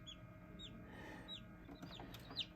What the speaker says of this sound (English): Here's the other baby chick pecking on it.